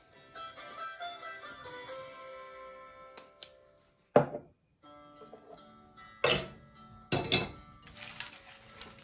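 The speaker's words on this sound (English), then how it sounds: "now mix well, mix everything all together" Chicken is stirred with yogurt and salt for biryani in a metal bowl, with ringing scrapes and sharp clanks of a spoon against the bowl in irregular bursts, close by and without talking.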